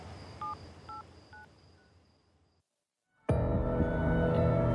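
A company telephone being dialed: three short tone beeps in quick succession, faint under a soft room hiss, then a silent gap before a louder, steady wash of noise takes over.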